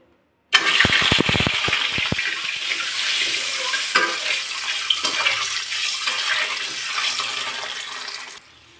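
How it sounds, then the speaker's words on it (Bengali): An egg dropped into hot oil with turmeric bursts into a loud, sudden sizzle that settles into steady, close frying crackle for several seconds before cutting off. "গরম তেলে কিন্তু ডিমটা দিয়ে দিতে হবে"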